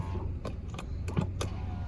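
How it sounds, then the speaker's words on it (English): Power window of a 2013 Kia Optima LX lowering: a steady, low electric motor hum runs throughout, overlaid with a few faint clicks and rattles inside the car, no talking. "when you lower the window and have the window up"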